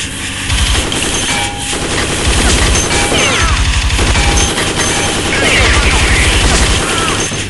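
Dense automatic gunfire in the mobile horror shooter Dead Effect 2, loud, continuous bursts of rapid shots with booms and metallic clangs, voices shouting over the din.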